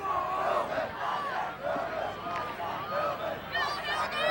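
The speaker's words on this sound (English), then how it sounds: "Well, the crowd's starting to cheer their team on." A high school football crowd roars and chants in the stands to cheer their team on late in the game, a sustained, rising and falling wall of voices.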